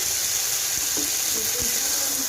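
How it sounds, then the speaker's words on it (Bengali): Chili paste spice mixture frying in oil makes a continuous close sizzle, with faint stirring scrapes and small clicks underneath. "তারপরে লঙ্কা বাটা দিয়ে এখন মশলাটাকে ভালো করে কষিয়ে নেবে যতক্ষণ না মশলাটা থেকে তেল বেরোয়"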